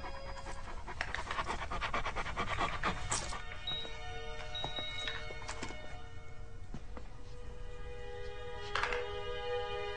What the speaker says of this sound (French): la chienne du colonel